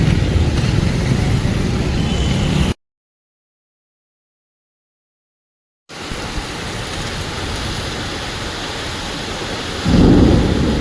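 Steady heavy rain roars throughout, with a low thunder-like rumble swelling near the end; a stretch of silence cuts through the middle.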